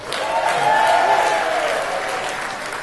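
Comedy club audience at the Improv bursts into sustained applause, loud and close, with a dense steady wash of clapping that swells early then holds, a few voices mixed in.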